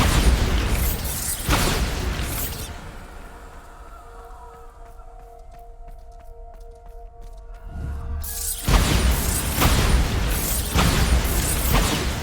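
Bombarda blasting spells go off in Hogwarts Legacy as loud, booming explosive bursts, with a burst near the start and another near the end, framing a quieter stretch of low mechanical tones and resonant hums.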